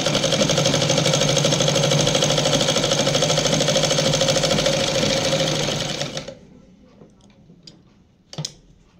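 A sewing machine runs a straight seam on a petticoat, a steady loud mechanical whirr with rapid ticking stitches for about six seconds, then stops, leaving faint handling clicks and a brief knock near the end.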